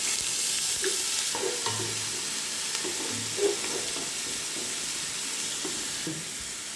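Onion paste hits hot oil left over from frying crisp onions for a coconut milk pulao, giving a steady moderate sizzle with occasional stirring clinks and scrapes close by.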